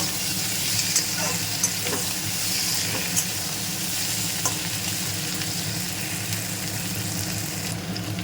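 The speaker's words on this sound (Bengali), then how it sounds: "তারপরে এবার আমি ভালো করে কষাবো" Onion, tomato and ginger paste sautéing in a pan, a steady close sizzle with a broad hiss and faint scraping stirs now and then, with no talk over it.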